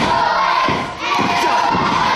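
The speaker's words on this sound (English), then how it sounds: "This crowd here in Trafalgar trying to get behind SOS" A wrestling crowd in Trafalgar roars and cheers during an Irish Whip Wrestling match, a loud sustained din of shouting voices that dips briefly before surging again.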